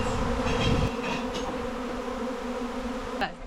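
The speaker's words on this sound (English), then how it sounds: "I never ever thought I'd be comfortable like this around thousands of bees" Thousands of honey bees drone in a dense, continuous buzz around backyard hives, close and steady throughout, with a faint click near the end.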